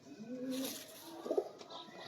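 A Sialkoti pigeon gives a soft, low coo at close range, a short faint call repeated once amid quiet room background.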